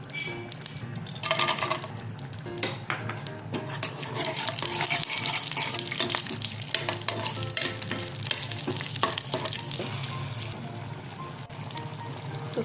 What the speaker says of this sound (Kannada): ಇನ್ನೊಂದು ಸ್ಟವಲ್ಲಿ 1 ಸ್ಪೂನ್ ತುಪ್ಪ ಹಾಕಿಬಿಟ್ಟು ಗೋಡಂಬಿ ದ್ರಾಕ್ಷಿನ ಫ್ರೈ ಮಾಡಿಕೊಂಡು